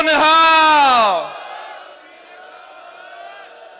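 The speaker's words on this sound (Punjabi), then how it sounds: "ਜਕਾਰੇ ਦਾ ਜਵਾਬ ਬੁਲੰਦ ਆਵਾਜ਼ ਚ ਦਿਓ ਪੂਰਾ।" A large crowd roars the Sikh jaikara response "Sat Sri Akal" after Bole So Nihal at an outdoor stage gathering, one loud swelling collective shout that fades into murmuring and a faint hum.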